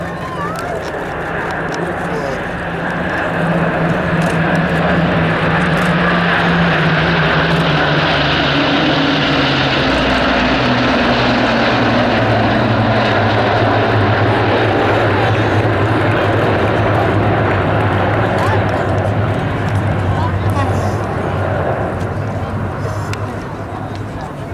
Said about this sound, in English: Now I'm going to be quiet so you can hear the fantastic sound of these engines in formation.